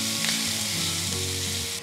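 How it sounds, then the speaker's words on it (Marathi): Garlic-chili thecha sizzles and fries steadily in a hot oil tempering, a close, continuous crackle with faint stirring, heard alone without talk. "यामध्ये हा ठेचा जो आपण तयार करून घेतला होता, लसूण मिरचीचा ठेचा, हा घालून 1 मिनिटभर"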